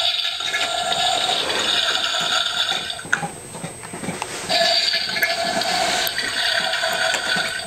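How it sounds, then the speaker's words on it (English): A household toilet flushes with a loud rushing gush of water, dips briefly, then surges again and settles into a steady cistern refill hiss, heard close up with no talking. "You flushed the toilet."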